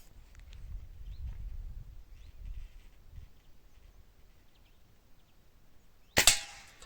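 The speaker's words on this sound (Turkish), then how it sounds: "Evet güzel bir atış daha izledik." A Hatsan Mod125 air rifle fires a single sharp shot near the end at a bottle target outdoors, loud and close after several seconds of low background rumble and quiet voices.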